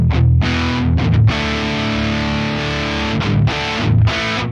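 A loud electric guitar through a Custom Audio Amps C3+ SE preamp model with overdrive plays heavy distorted chords, sustained with brief choppy breaks between them.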